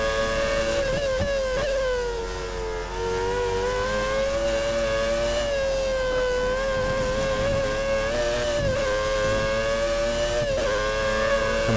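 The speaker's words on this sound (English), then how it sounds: "You just hear the cars on the other side of the track just zooming past" A race car in the F1 2013 video game, on a 1990s-era Formula 1 circuit in Germany, drones with a loud, close, high-pitched engine whine that holds nearly steady with slight pitch wavers throughout, with no talking.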